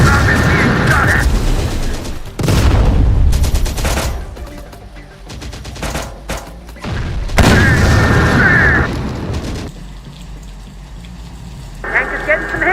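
Booming blasts and bursts of gunfire fill a battle in the Terminator Dark Fate Defiance video game, loud and dense with heavy impacts and rattling fire, while a voice speaks over it.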